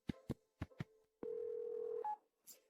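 A telephone keypad beeps through four short tones, then a sustained dial tone holds for nearly a second before a brief higher tone ends the sequence, quiet and close with no speech.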